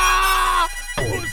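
An electronic phone ringtone chimes loudly with a steady tonal melody in a comedy film, cuts off, and then a brief burst of other sound follows.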